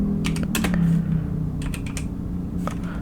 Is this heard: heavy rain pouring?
no